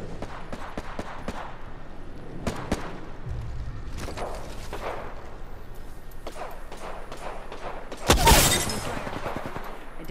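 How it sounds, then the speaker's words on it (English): Scattered gunshots from Apex Legends crack in short bursts across King's Canyon, with a louder close burst near the end over steady ambient game noise. "Getting shot at."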